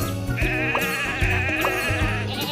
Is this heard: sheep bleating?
yes